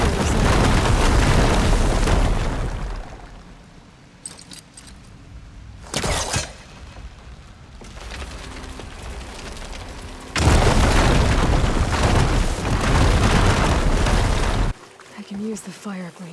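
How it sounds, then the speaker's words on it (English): Fire gleam blasts open a wall in Horizon Forbidden West, heavy booming explosions and rumbling bursts that come in loud waves and then cut off, with quieter gaps and voices between. "Use the fire gleam to break open that wall."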